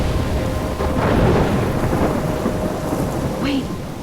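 Thunderstorm with steady heavy rain in the video game Life is Strange, a continuous loud wash of rainfall with deep rolling thunder rumbling underneath throughout.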